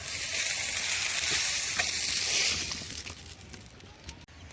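Sautéed vegetable curry tipped into hot water in a pan, giving a loud burst of hissing sizzle that fades and settles over a few seconds, ending with a faint clink.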